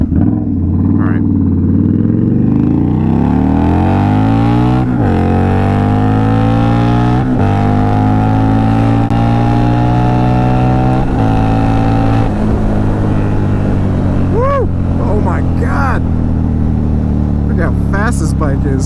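Indian Scout Bobber motorcycle fitted with a project exhaust, heard up close from the rider's position as the engine climbs through rising revs under hard acceleration and then drops between shifts, loud and continuous, with the rider talking over it.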